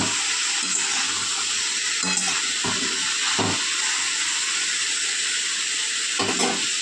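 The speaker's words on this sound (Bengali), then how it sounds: "চলুন আবারও ভেজে নিই 5 মিনিট।" Mixed vegetables with green peas frying in a pan, a continuous bright sizzle with several spoon scrapes and stirring knocks at irregular intervals, no voices.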